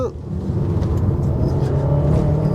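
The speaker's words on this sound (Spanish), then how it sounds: "Oye, pues noto que el motor corre" Engine of a Mercedes GLA 200 while driving, a loud, steady low rumble and whir heard from inside the car, holding even throughout with no talk over it.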